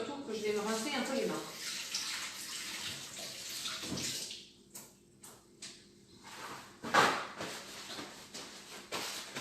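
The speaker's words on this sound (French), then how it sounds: "je vais me rincer un peu les mains" Hands rinsed under a running kitchen tap while preparing foie gras, a steady water stream at the start with a clatter near the middle, broken by brief splashes and knocks later.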